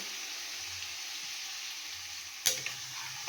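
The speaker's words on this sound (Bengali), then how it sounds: "এর মধ্যে আমি এবার অল্প করে একটু জল দিয়ে দেবো।" Marinated fish frying in oil with masala hisses steadily. A sharp burst of louder sizzling and spatter comes when a little water is added, and the sizzle settles back to a continuous crackle.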